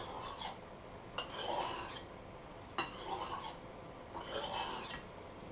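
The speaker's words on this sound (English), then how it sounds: "practice like you're trying to shave little bitty pieces off your sharpening stone" A knife is stroked across a sharpening stone in repeated rasping passes, about four scraping strokes with short pauses, close and moderately loud.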